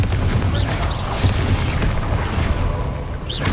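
Bombarda explosion spell in the video game Hogwarts Legacy, dense continuous booming blasts with rumbling low end and crackling debris, loud and sustained throughout with brief whooshing spell sounds.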